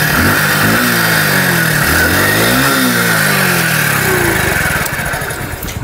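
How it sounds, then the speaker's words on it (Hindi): A Hero four-gear motorcycle engine fires up without kick or self-start and revs loudly and steadily for several seconds, its pitch swinging up and down with the throttle before settling at the end. "हीरो की बाइक भी स्टार्ट होती है इस तरीके से"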